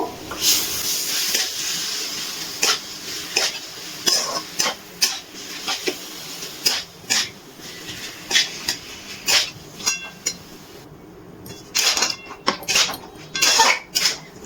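A spoon stirs and scrapes around a pan as jaggery melts over a low gas flame, with repeated clinks and scrapes in an uneven rhythm over a soft sizzling hiss, close and moderately loud.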